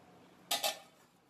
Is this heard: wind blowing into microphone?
no